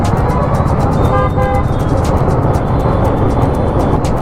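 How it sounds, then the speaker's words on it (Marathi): Heavy road traffic rumbles loudly and continuously in Mumbai, with a couple of short car horn toots near the middle cutting through the constant low engine drone. "किती जास्त ट्रॅफिक आहे"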